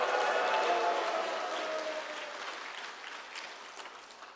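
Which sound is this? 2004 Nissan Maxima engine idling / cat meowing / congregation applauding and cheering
congregation applauding and cheering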